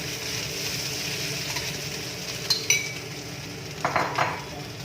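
Ground mackerel dropped into a wok and stirred, with a light background sizzle and a few sharp metallic clinks and scrapes of utensil on pan, close and without speech.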